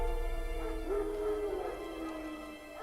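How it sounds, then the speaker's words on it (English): Wild dogs bark and howl in The Witcher 3, a sustained howling tone rising in the middle over a steady game ambience, fairly close and moderately loud. "No. Wild dogs."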